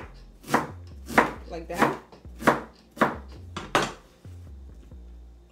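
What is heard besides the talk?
cutting cabbage into small pieces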